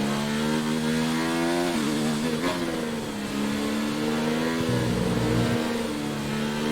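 A Formula 1 car engine in the F1 2019 video game drones at high revs, its pitch rising and dropping as it shifts, loud and continuous with no voices.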